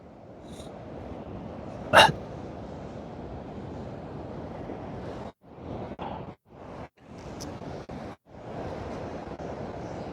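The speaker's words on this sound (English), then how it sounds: "The waves out there are monstrous" Large, rough winter sea surging against a fishing shore, a steady broad wash of surf and wind roar with brief dropouts and a sharp click near the start.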